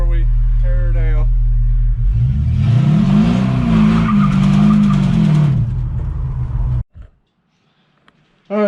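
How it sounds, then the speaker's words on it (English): Engine of a car in a garage, its motor about to be pulled, revs hard as the tires spin in a short burnout, giving a loud rising squeal of rubber over the roar for a few seconds before it cuts off abruptly. "One last little burn tire before we tear her down."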